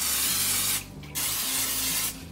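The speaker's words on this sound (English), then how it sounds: "I'm gonna go ahead and spray it with a little bit of olive oil cooking spray." Olive oil cooking spray is sprayed onto a waffle iron in two close, loud hissing bursts separated by a short pause.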